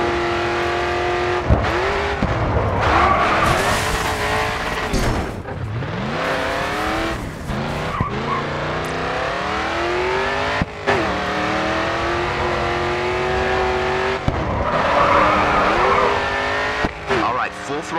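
A race car in GRID 2 roars and revs at full throttle, its engine pitch sweeping up and down through gear changes, with tires squealing and skidding through corners. The sound is loud, continuous and close, with faint talk underneath.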